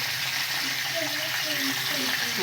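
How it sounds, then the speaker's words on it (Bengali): Thinly sliced potatoes frying in a covered pan for fried rice and potato fry: a continuous even sizzle, close and fairly loud, with a faint voice underneath. "এবারে আলুগুলোকে আমি একটু ঢাকা দিয়ে ভেজে নেব"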